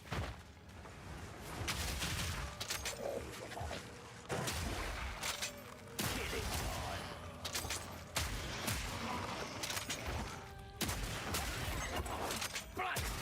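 Shotgun gunfire from a Mercenary character in Path of Exile 2, a run of repeated blasts with thumps and whooshes of spell effects in a dense, continuous game mix, with some talk over it.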